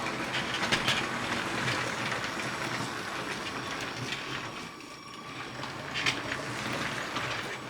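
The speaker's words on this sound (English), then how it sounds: "the train's gonna come around and you'll see it come to a slowdown and then proceed" A small Lego City toy train clatters along its track nearby, with a steady rattling, clicking mechanical rhythm that eases slightly midway as it slows down.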